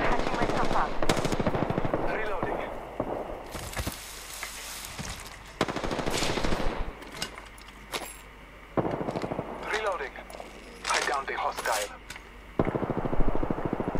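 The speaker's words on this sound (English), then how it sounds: "enemies are shooting at me" Enemy gunfire in the Apex Legends video game, with bursts of automatic and single shots popping in and out among game effects and a voice, close and loud over a busy, shifting mix.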